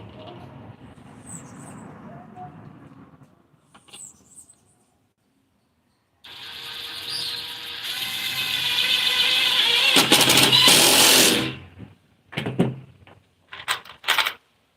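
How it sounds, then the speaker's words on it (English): Two-inch screws driven into wood while building a slide-under-couch laptop table, heard as a loud, steady whirring drive lasting several seconds, followed by a few shorter bursts. "I'll just drive in a couple of 2-inch screws."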